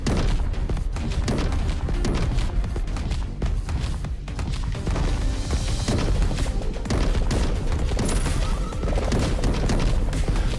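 Explosions of destroyed objects in the retro video game Caverns of Mars, a rapid run of crunchy booms and thuds layered over busy game sounds, loud and continuous.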